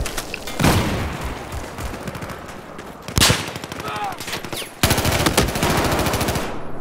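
MG32 machine gun fired in Battlefield 4 during a large Conquest match, loud rapid sustained bursts broken by short pauses, with heavy booming reports and battle noise around it.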